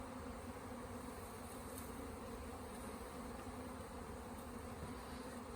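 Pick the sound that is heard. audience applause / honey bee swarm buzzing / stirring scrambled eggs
honey bee swarm buzzing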